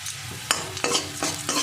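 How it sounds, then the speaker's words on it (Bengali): Whole coriander seeds fry in hot oil in a pan for a vegetarian dish, giving a steady close sizzle broken by four sharp scraping bursts as they are stirred, with no voices. "এর মধ্যে আমি 1 চামচ গোটা ধনে দিয়ে দেব। এটা আমি 15 থেকে 20 সেকেন্ড ভেজে নেব।"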